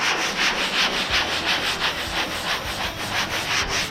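Steady abrasive sanding scratching through the paint on a 1950 Chevy car body, continuous rhythmic strokes, close and fairly loud with no voices.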